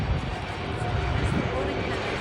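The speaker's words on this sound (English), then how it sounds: "Atlas Air 747 is literally moving right now." An Atlas Air Boeing 747-8 moves at an airport, its engines a steady broadband roar heard from a distance, with a person talking over it.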